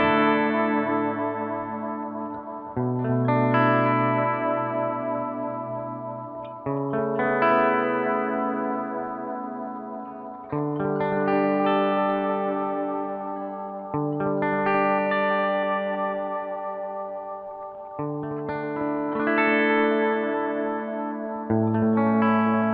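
Layered, sustained guitar tones processed through a Gokko Audio Dripping Analog Delay pedal, building a spacious atmospheric wash of repeating, overlapping echoes that swell in roughly four-second phrases, steady and fairly loud with no talking.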